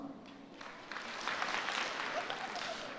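Convocation audience at the University of Calgary clapping together on cue, a soft scattered patter rising into a fuller, steady round of applause that holds at moderate volume.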